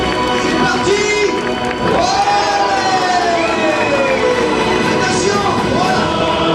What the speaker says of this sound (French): on compte sur vous pour applaudir